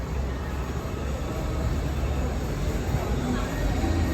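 Steady broadband rumble and hum of a busy metro station fills the scene, a train-like drone carrying low and constant, with people talking over it.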